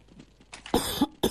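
A man with a mild illness coughs a few times while commentating a Counter-Strike 1.6 esports match, harsh close coughs with throat clearing, the strongest bursts coming in quick succession.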